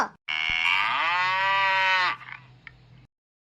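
A cow in a village setting gives one long, loud, drawn-out moo close by, rising in pitch and then holding steady before stopping abruptly, with no talk.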